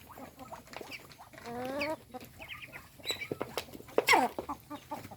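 Several chickens cluck and squawk nearby in irregular bursts, with sharper calls breaking out toward the end; no voices.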